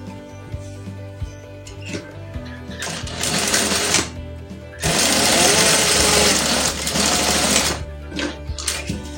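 A sewing machine stitches basting to hold a pocket in place, a near, loud mechanical whirring that builds from short bursts into a steady sustained run, then slows into intermittent clatter.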